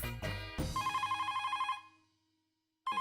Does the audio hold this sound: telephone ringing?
yes